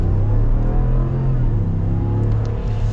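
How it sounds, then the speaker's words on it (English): 2021 Ram 1500 Laramie pickup engine pulling hard at full throttle, a continuous droning hum heard from inside the cab that dips slightly in pitch, then climbs again. "So at full throttle, you do get quite a bit of engine noise"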